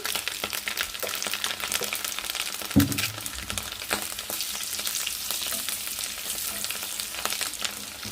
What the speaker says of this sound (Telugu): కోడిగుడ్లు ఫ్రై చేస్తుంటే వాసన మాత్రం భలే ఉంటుంది